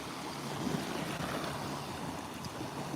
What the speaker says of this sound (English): Let the waves pass.